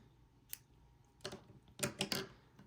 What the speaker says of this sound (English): Now you can cut your yarn